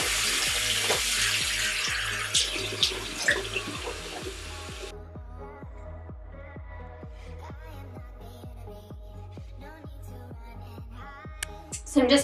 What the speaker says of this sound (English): And now I'm just going to rinse my face.